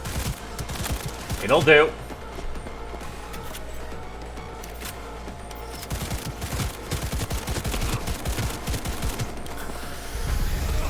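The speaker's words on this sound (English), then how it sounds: "That's right, I have a smart gun." A smart gun fires in the game Cyberpunk 2077, sending out rapid, steady volleys of shots across the clip. Someone briefly speaks over the gunfire near the start.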